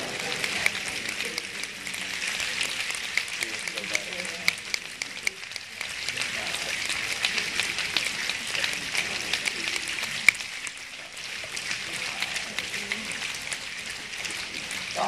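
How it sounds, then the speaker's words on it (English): An audience at a Games For Change keynote snaps their fingers together, producing a dense, continuous crackle of many small clicks that holds steady for the whole stretch without pause. "I want you to snap your fingers exactly 50 times"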